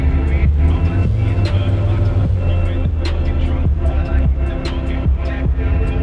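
A 2016 Kia Optima GT engine in City Car Driving drones low and loud, its revs rising and dropping in repeated surges with a throbbing hum and faint clicks over the top.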